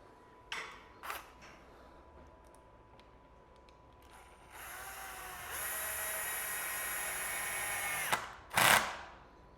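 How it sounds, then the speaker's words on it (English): A power driver whirs steadily for several seconds, driving a screw into the tail light of a 2025 Ducati Panigale during a fender eliminator install, framed by a few sharp clicks and knocks nearby. "I'm gonna go ahead and put the number 3 screw back in the tail light."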